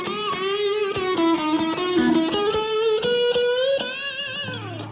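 An electric guitar, its middle pickup's phase reversed, plays a sustained bright melodic line of bent and sliding notes with a thin, cutting, screaming tone, ending on a long held note.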